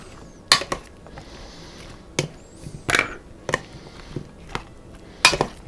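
Gazpacho ingredients being mixed in a bowl: sharp clinks and knocks of a utensil against the bowl come in irregular bursts with quieter stirring between, close and fairly loud, with no voices.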